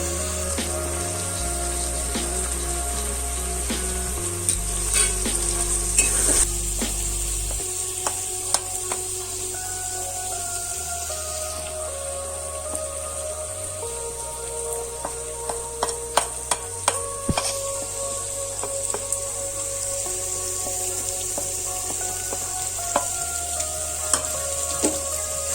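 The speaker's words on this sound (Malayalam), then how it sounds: "പിന്നെ നമുക്ക് മസാലപ്പൊടികൾ ചേർത്ത് കൊടുക്കാം. എന്നിട്ട് നന്നായി ഒന്ന് വഴറ്റിയെടുക്കാം." Spice powders sizzle and fry in a pan while being stirred for a chickpea curry: a steady, close hiss with scattered scraping clicks of the spoon against the pan, with no talk.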